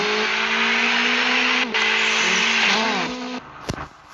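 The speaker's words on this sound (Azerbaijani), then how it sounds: "Maşın yanlamasına gidiyor" A wrecked car slides sideways with its tyres squealing in long wavering tones over a loud engine roar, the screech bending in pitch before breaking off into a short scuffing clatter.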